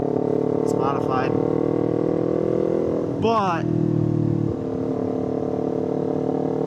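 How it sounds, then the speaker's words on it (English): Loud modified exhaust on a Kawasaki KO Lightning motorcycle, a continuous close engine drone while riding, with a person talking over it throughout. "Technically, I should not be running this exhaust. It's too loud. It's modified."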